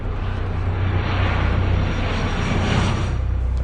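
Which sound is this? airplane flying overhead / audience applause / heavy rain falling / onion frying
airplane flying overhead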